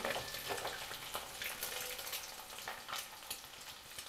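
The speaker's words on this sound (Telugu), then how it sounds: "కొంచెం ఫ్రై చేసుకున్న తర్వాత తీసేసుకుందాం. ఇలా లైట్గా వేగిన తర్వాత తీసేసుకోవాలి." Egg and okra for egg pulusu frying lightly in oil: a soft, continuous sizzle with crackling spits and occasional stirring, steady and fairly close.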